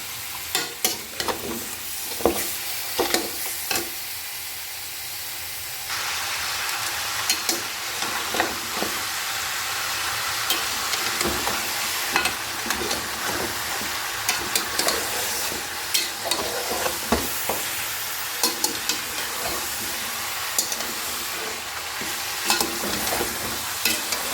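Beef pieces browning in ghee with onions in a pot, a dense continuous sizzle broken by repeated scraping stirs and clattering spoon strikes, close and fairly loud with no talking.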